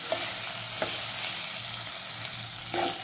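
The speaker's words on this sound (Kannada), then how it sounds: "ಈಗ ಶೇಂಗಾ ಬೀಜ ಮತ್ತು ಕರಿಬೇವು, ಸ್ವಲ್ಪ ಹಸಿ ಶುಂಠಿ, ಎಲ್ಲ ಮಿಕ್ಸ್ ಮಾಡಿ ಸರಿಯಾಗಿ ಬಾಡಿಸ್ಕೋಬೇಕು." Peanuts, curry leaves and fresh ginger sautéing in oil for vegetable upma, a steady close sizzle punctuated by a few spoon scrapes and taps against the pan.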